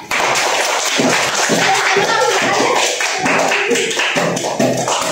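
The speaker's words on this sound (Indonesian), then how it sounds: "Kita beri tepuk tangan dulu semuanya." A class of pupils applauds together after finishing a game during an ecosystem lesson, with dense, steady hand clapping filling the room and voices talking underneath throughout.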